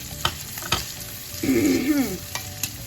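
An onion drops into a pan of canned sauce and catches a sudden, brief burst of sizzling as it is stirred, with a few sharp utensil clicks before and after.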